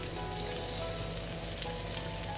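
Chopped onions soften in melted butter in a hot pan, giving a steady, even sizzle that holds close and constant throughout, with no voices.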